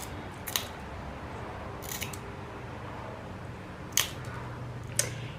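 Glass nippers snip and crunch at the points of small stained glass mosaic pieces, a few sharp isolated clicks spaced apart over a quiet background.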